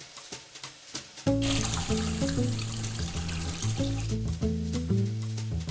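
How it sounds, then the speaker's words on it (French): Cold water is poured into a bowl to soak raisins, a steady close stream running from a tap after a few light knocks, with a ringing tone as the bowl fills. "Prune, est-ce que tu veux bien mettre les raisins secs à tremper dans un bol d'eau froide?"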